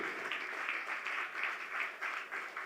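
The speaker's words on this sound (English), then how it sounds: "Ladies and gentlemen, a round of applause as they come up." Sustained applause from a conference audience greeting Team BTL as they walk up, a dense, steady wash of clapping with slight swells, loud and close, with no speech over it.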